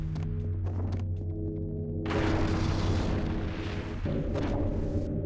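Stone pillars are smashed apart in the video game Otogi: Myth of Demons, giving heavy crashing impacts and rumbling rubble over a steady droning game soundtrack, with a couple of sharp hits near the start.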